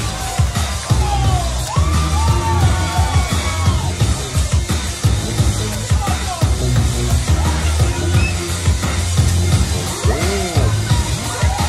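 Loud crowd yelling, whooping and cheering throughout a dance routine at a Roadhouse 2015 finals competition, dense and continuous with music and occasional bangs buried beneath the noise.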